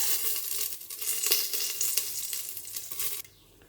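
Whole spices, including cinnamon, cloves, bay leaf and star anise, crackle and sizzle in hot ghee in a pressure cooker for paneer pulao, a loud close hiss with stirring scrapes that cuts off abruptly.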